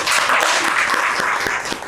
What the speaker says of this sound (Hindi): ताली हो जाए भाई